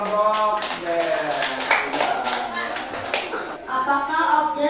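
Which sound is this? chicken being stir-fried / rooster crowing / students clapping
students clapping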